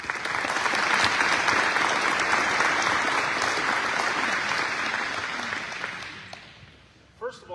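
An audience at a wellness center grand opening breaks into sustained applause, dense clapping that swells loud and steady before fading out, with a voice briefly heard at the end.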